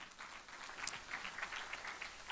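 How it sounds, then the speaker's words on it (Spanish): A church congregation applauds during a Sunday service, a faint, steady patter of many hands clapping at a distance, with no voices standing out. "Dale un aplauso al Señor, hermano."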